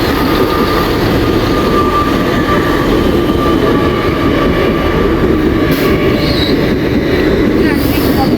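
A Class 805 train pulls into Milton Keynes Central station on the West Coast Main Line. A loud, continuous rumble of wheels and motors carries throughout, with faint squeals and clatter near the end.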